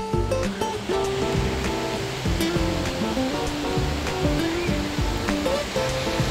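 Water fountain in Tsuen Wan Park splashing steadily, a dense continuous rushing wash with faint background tones, even in loudness throughout and with no speech heard.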